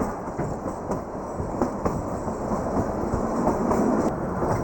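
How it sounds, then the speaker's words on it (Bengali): Rhythmic clickety-clack of the Kalka–Shimla toy train rolling along narrow-gauge rails, a steady rumbling run with light metallic clicks and no talking. "এই টয় ট্রেন"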